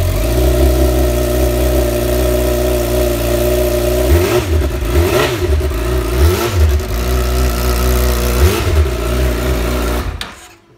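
A 2017 Honda CBR1000RR SP sport motorcycle engine runs loud and close, idling steadily before several sharp revs rise and fall, then cuts off abruptly at the end.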